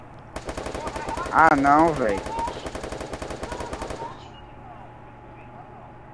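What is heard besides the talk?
gunfire in a video game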